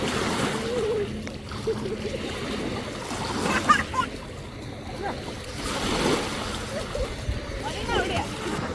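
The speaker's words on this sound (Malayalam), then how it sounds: "എല്ലാവരും വെള്ളത്തിൽ കിടന്ന് ചാടുന്നു" Water splashing and sloshing as people move about in the sea at Musandam, Oman, with waves washing steadily and voices in the background.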